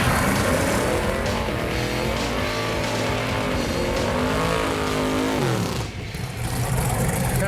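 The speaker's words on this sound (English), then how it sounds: "Kind of a mini burnout." A 1980 Chevy El Camino does a short burnout at a drag strip, its engine roaring loudly and steadily with tire noise, then dipping briefly before the roar picks back up.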